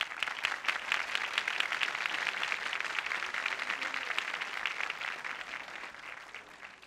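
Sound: studio audience applause on a TV show

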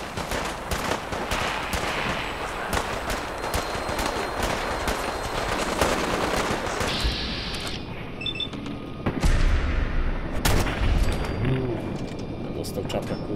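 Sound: gunfire in Fallout 4 video game

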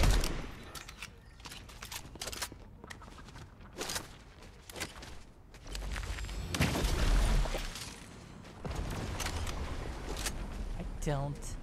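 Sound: gunfire from an enemy player in Fortnite video game

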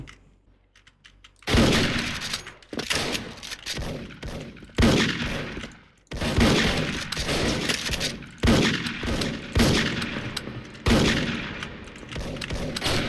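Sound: Dragunov sniper rifle shots in Special Force video game

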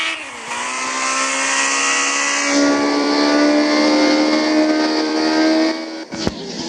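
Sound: Ferrari car engine accelerating while driving

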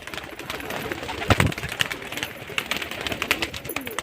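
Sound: pigeons cooing

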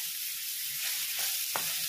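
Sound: onions and curry leaves frying in oil in a pan

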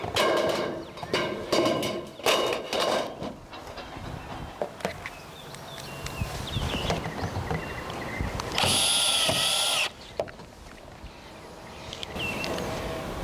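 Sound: power drill driving tech screws into steel ridge cap

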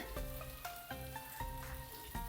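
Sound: coconut oil heating in pan

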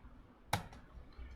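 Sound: pressing Enter key on keyboard

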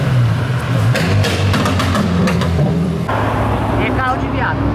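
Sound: sports car engine in a video game

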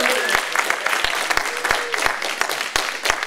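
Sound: audience applauding speakers at event

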